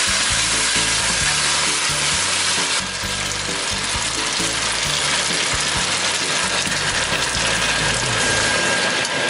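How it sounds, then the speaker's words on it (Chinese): Vegetables and assorted side ingredients for potato noodles sizzle loudly in hot chili oil in a pan, a dense continuous crackle that carries on through the whole stretch with no voices. "就是先把它里面的那种各种配菜全部下下去，然后用油炒一下"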